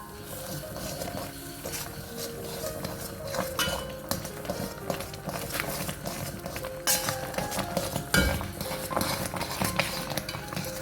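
Upma being stirred in a pan to break up its lumps, a spoon clinking and scraping against the metal in an irregular, steady rhythm throughout, fairly close with no talking.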